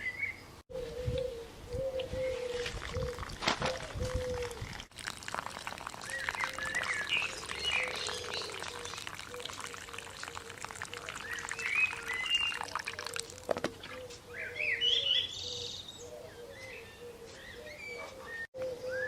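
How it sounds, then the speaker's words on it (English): Water poured into planting holes dug in garden soil, a soft steady pouring and trickling that runs on through the clip, with birds calling and cooing outdoors around it. "I'm just going to fill each hole up with water and let that drain down"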